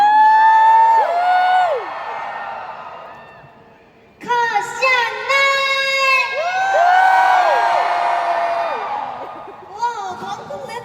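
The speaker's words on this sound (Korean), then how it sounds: "저희 시작하기 전에 크게 함성 한번 질러볼까요?" A concert crowd at Impact Arena in Bangkok screams and cheers loudly in high-pitched waves, fading briefly before surging again into sustained shrieks and whoops.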